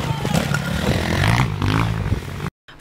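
Enduro motorcycles race round a cross-country track with obstacles, engines revving loud and rough with clattering and scraping, before cutting out abruptly at the end.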